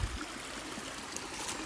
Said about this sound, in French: Là aussi avec une petite cascade toute mignonne